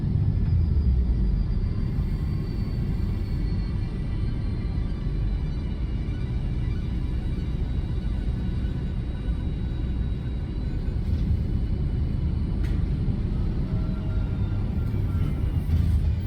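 Drop pod retro-propulsion in Satisfactory fires during landing as a loud, continuous low rumble, steady and heavy across the whole stretch with a few faint higher clicks near the end.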